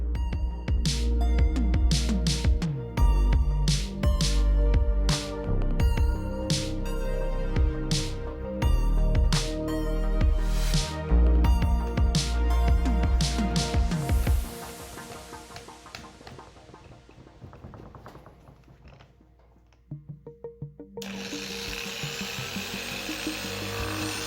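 Power polisher buffing compound into a wet-sanded, freshly painted car side skirt at home, a loud steady whirring with rising and falling pitch that drops away after a while, leaving only a quieter hiss.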